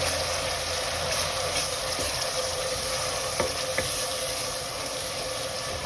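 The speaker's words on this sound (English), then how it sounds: "Fry it till the onion turns in brown color." Onion paste mixed with ginger garlic paste frying in oil for South Indian style chicken biryani, a steady close hiss of sizzling with a few soft stirring clicks.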